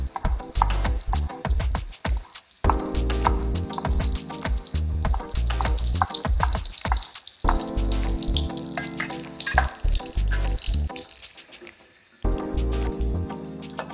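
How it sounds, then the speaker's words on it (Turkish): Peppers sizzle and crackle as they fry in melted butter in a pan for menemen, a busy, dense, close frying sound with scattered pops and clatters that continues throughout. "tereyağım hafif sıvı hale geldikten sonra biberlerini ilave ediyorum"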